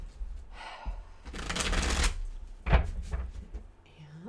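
Runic tarot cards being shuffled in repeated riffling bursts, close and fairly loud, with a few soft handling taps between and no talk.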